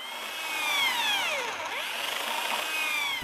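A power drill bores a latch hole in an interior wooden door, its motor whining with a pitch that swoops down and rises again as the bit bites into the wood, close and steady for several seconds with no talking.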